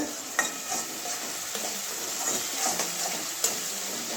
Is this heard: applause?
no